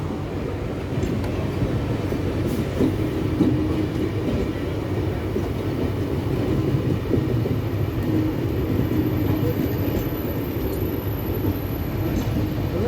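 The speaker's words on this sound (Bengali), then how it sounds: "এক্সপ্রেস দেখো, হাওড়া ভুবনেশ্বর জনশতাব্দী WAP4 লোকোমোটিভ দিয়েছে।" The Howrah–Bhubaneswar Jan Shatabdi Express, hauled by a WAP4 locomotive, passes with a steady rumble and the rattle of its wheels and cars, a continuous train noise that holds level throughout.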